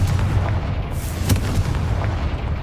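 The Confringo fire spell from Hogwarts Legacy goes off in heavy, rumbling blasts. Booming bursts roll over one another with a sharp crack partway through, loud and without any voice.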